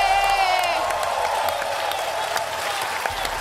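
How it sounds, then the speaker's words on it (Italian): A live crowd at Lucca Comics 2023 applauds and cheers for a performer, with whoops over dense clapping that stays steady and full throughout. "Signore e signori, un grande applauso per Rocco Tanica!"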